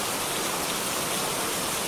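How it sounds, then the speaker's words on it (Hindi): Heavy rain pours down in a steady, dense hiss, a loud continuous wash of falling water with no voices or other sounds. "अचानक आसमान में बिजली चमकी और तेज बारिश होने लगी"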